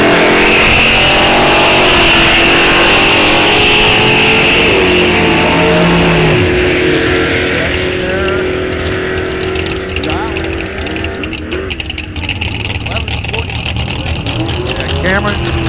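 An old Cutlass and a Camaro launch down a Minnesota drag strip at a test-and-tune session, engines roaring loud and continuous, then fading as the cars pull away, with crowd noise and an announcer underneath.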